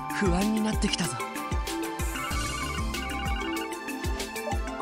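A portable communication terminal in Trails from Zero rings with a bright, repeating electronic chime, layered over game music.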